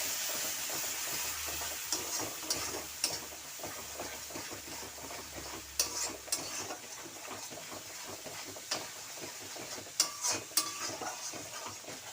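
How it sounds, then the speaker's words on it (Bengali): Spice paste sizzling and frying in oil in a pan, with a steady crackling hiss broken by sharper pops and stirring scrapes, close and fairly quiet with no voices. "মশলাটা খুব সুন্দর ভাজা হয়ে গেছে, তেল ছেড়ে দিয়েছে।"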